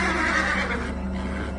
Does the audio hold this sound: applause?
no